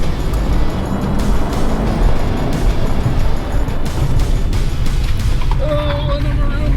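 Car accelerating hard in a drag race between a new 2023 Honda Accord and a classic V8, a loud sustained engine roar with road and wind noise close up, and a voice talking over it.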